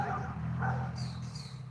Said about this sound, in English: there's still the neighbor's dogs and my other dog out that like to